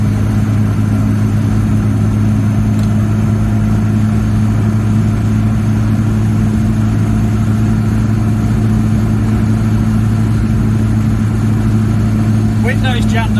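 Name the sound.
Reliant Robin car engine running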